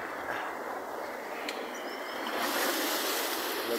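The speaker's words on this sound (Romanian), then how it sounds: "Cauze că valurile sunt mari." Big waves break along the shore in a continuous churning wash of surf that swells slightly louder toward the end, with no voices.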